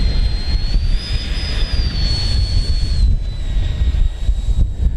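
FMS Viper Jet 70mm RC electric ducted-fan jet flying during a demo flight over a grass field, a loud continuous whine with a rising and falling tone over outdoor rumble, no talking.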